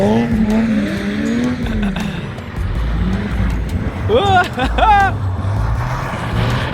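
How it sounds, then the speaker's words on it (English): A rear-wheel-drive 1980s Toyota Starlet hatchback drifts at a car event, its engine droning steadily while tires squeal in rising, wavering bursts midway through. Voices murmur in the background throughout. "Ah, rear wheel drive 80s hatchback drifted."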